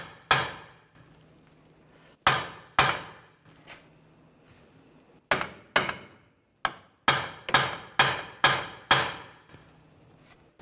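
Sharp metal-on-metal hammer strikes ring out against the lower control arm of a 2011-2017 Nissan Juke during ball joint removal, arriving singly and then in a quick run of close, loud blows with quiet gaps between.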